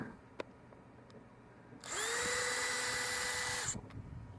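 A power drill runs in one steady burst of about two seconds, backing screws out of an Airstream trailer panel, loud and alone against a quiet background.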